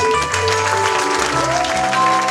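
Church congregation applauding and acclaiming their pastor during a service, continuous clapping and cheering blended with sustained music tones throughout.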